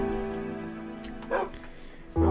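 Dogs in the Minecraft video game give a few short yips and barks over a steady drone of game music, with a louder bark at the end; no one talks.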